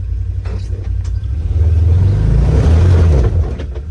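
A Can-Am off-road vehicle engine rumbling and revving up close, a loud low drone that builds and holds strong before easing off near the end.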